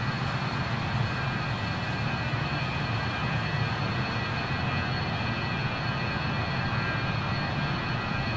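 The JustFlight RJ100's jet engines in the video game Microsoft Flight Simulator 2024 produce a steady, broadband cabin roar with a faint high whine, constant and unbroken throughout.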